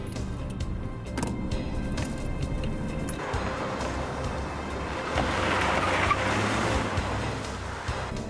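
Getaway car with no plates in a police pursuit, its engine droning steadily with a tyre skid or road rush that swells louder toward the end, and no voices.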